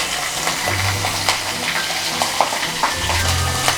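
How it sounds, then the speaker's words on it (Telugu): Cumin seeds and cut green chillies crackle and sizzle in hot oil in a kadai while ridge gourd pachadi is being made. A steady, close frying hiss with small popping bursts runs throughout, under a low humming tone. "ఆయిల్ వేడెక్కిన తర్వాత కొద్దిగా జీలకర్ర, అలాగే కట్ చేసుకున్న గ్రీన్ చిల్లీస్ వేసుకోవాలి."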